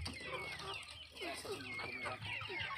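Native chickens and ducks on a Philippine farm at morning feeding time, a flock clucking and calling together in a busy, continuous chatter heard from close by, with faint background voices.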